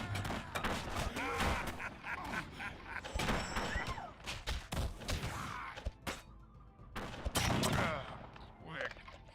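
Gunfire in the strategy video game Battle Realms 2: dense, continuous volleys of shots and impacts crackle loudly throughout, with battle noise piling up in rapid bursts.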